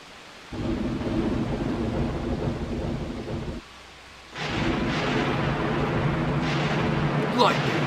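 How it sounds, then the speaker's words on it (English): A thunderstorm from the game Grandia II swells as steady rumbling rain and deep thunder rolls in two loud waves split by a brief hush, with a faint high tone at the end. "Yet the storm and rumblings only grew worse."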